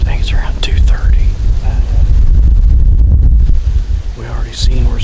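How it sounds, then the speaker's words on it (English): Strong wind gusting around 20 miles an hour buffets the microphone in a steady low roar with gusts during a Missouri fall bowhunt, while a voice whispers faintly at the start and end. "wind gusts now I think are 20 miles an hour"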